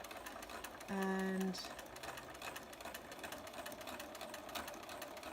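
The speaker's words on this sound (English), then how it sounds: "I'm going to stitch really close to the seam" Sewing machine stitching about 2 mm from a seam on a scrubs top, a short close burst of steady mechanical whirring that lasts about half a second, set among quieter room noise and a brief spoken word.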